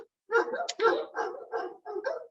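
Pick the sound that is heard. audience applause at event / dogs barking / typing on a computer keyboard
dogs barking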